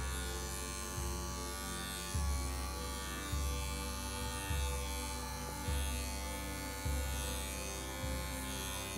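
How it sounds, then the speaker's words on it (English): Electric clipper shaving a dog's coat during a field trim groom, a steady close motor buzz with a low hum that dips and swells in regular strokes about every second and a quarter, with no talking. "I'm gonna shave, and then I'm gonna lift the tip of my clipper blade up"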